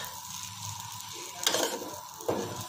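Semolina (rava) roasting in a pan over a low flame gives a soft, steady sizzle, with two louder scraping sweeps as it is stirred.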